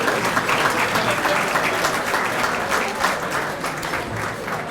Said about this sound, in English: give him a round of applause as he comes up to do his speech